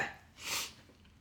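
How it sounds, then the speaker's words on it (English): A single soft, stifled sneeze comes from a person close by, a brief breathy burst over quiet room tone. "Let's hope I don't have a sneezing fit"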